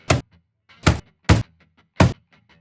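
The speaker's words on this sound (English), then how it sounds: "we'll have to punch in the door panel keeping in mind those three positions" A rear door panel on a 2022–2026 Honda Civic is punched into place by hand, giving four dull, close thumps spaced about half a second apart, with quiet gaps between them.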